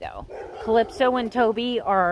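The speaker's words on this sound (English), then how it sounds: "Sorry about the dog in the background." A dog barks and whimpers in the background in several short yips under a woman's ongoing speech, the barks moderately loud and overlapping her talk.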